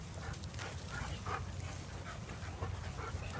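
A dog on an outdoor walk panting and giving soft whimpers and small yips, faint and close over a steady background hiss, no clear talking.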